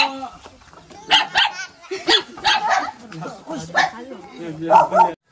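A dog barks repeatedly outside a house, close and loud, in a run of sharp barks and yips spaced about half a second to a second apart.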